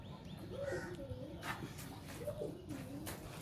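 Pet pigeons coo softly nearby in a home garden, a few low rolling calls rising and falling over a quiet background.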